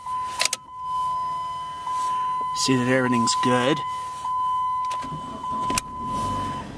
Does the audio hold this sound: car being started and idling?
yes